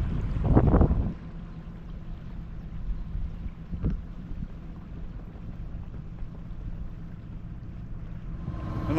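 Sailboat motoring under engine power through the Kiel Canal on a cold spring morning, a steady low engine drone with wind rushing across the microphone and a brief louder gust at the start, no voices.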